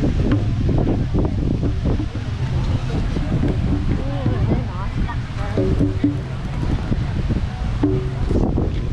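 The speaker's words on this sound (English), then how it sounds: "It's windy now, guys, so the audio might be terrible." Wind buffeting an outdoor microphone at a busy market in Channon, Australia, a constant low rumbling roar running under nearby talking voices throughout.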